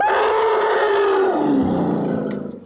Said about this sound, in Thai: ช้างบริวารหนึ่งในนั้นได้ยิน ก็แผดเสียง